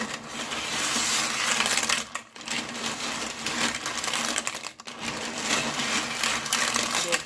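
Cockles in their shells stirred around a pot of water, producing a dense, continuous clatter of shells knocking together, with two short pauses between bursts of stirring and no speech.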